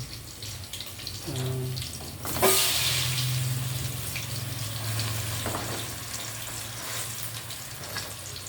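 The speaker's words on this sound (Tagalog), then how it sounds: "ang ating fried chicken" Thin chicken pieces fry in hot oil in a home kitchen, a close, steady sizzle that swells after a sharp burst when the pieces go in, then continues evenly without voices.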